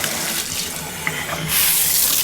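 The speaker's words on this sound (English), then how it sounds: "Well, the shower works perfectly." Hotel shower running with strong water pressure, a loud, close, continuous hiss of spraying water that swells louder near the end.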